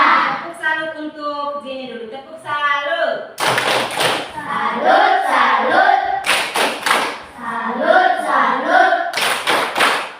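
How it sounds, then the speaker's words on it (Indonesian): Children clapping out a patterned 'tepuk salut' praise chant in a Sunday school class, rhythmic bursts of hand claps and slaps alternating with sung, chanted voices, close and lively. "Tepuk salut untuk Gini dulu. Tepuk salut."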